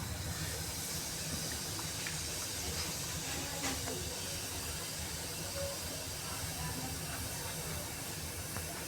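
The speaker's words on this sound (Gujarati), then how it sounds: "આપણો વઘાર આવી ગયો છે જીરું નાખીશું" Cumin seeds sizzling in hot oil for tempering, a steady dense hiss that holds evenly throughout, close and fairly quiet, with no talk.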